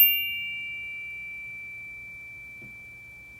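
A steady, high-pitched pure ringing tone imitating tinnitus holds unbroken for several seconds, loud at the start and slowly fading, over a faint low hum with no talking.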